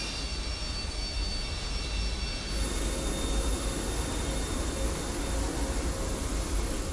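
Boeing 727 jet engines spooling up under thrust in Microsoft Flight Simulator 2024, a steady roar that swells and brightens partway through, joined by a high whine, with no talking.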